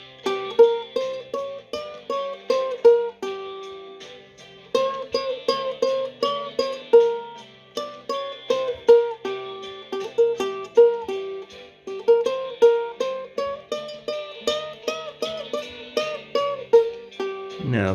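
Steady plucked ukulele blues solo with a backing track, adding 3rd, 5th and 6th notes in bright, bouncy phrases that run without pause for about eighteen seconds.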